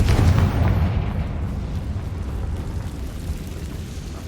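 Confringo spell blast in Hogwarts Legacy: a heavy booming explosion that hits at the start and then rumbles down into a long, low decaying roar, loud and close with no talking over it.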